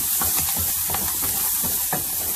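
Vegetables fry in a pan for a carrot onion uttappam, giving a steady loud sizzle and hiss with faint scraping stirs throughout.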